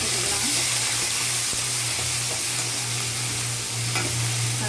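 Onions, curry leaves and green chilies fry in oil with mustard seeds in a kadai, producing a steady, even sizzling hiss over a low hum, close and continuous with no voices.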